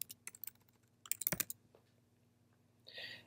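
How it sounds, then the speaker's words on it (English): Title text typed on a computer keyboard, with quick close key taps in short bursts, a louder cluster near the middle, then a brief soft rustle at the end. "I'm going to type out Scott Pilgrim Picture Show"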